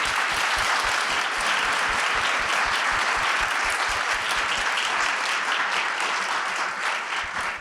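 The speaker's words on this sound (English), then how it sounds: "let's have a round of applause for that" Sustained, dense applause from a conference audience fills the whole stretch at a steady, loud level with no talking over it.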